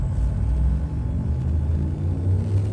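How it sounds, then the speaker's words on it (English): Frame shift drive charging in Elite Dangerous: a steady, heavy low rumble with a faint high whine above it, sustained and unbroken throughout. "Frameshift drive charging."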